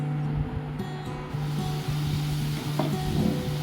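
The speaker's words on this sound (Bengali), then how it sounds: "তারপর আমি একটা করে করে কাঠিগুলো ফ্রাইং প্যানের মধ্যে দিয়ে" Paneer skewers sizzle in a frying pan, a steady close hiss and crackle of frying with a faint low hum running underneath.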